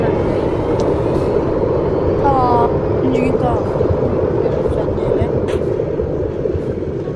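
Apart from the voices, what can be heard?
airplanes taking off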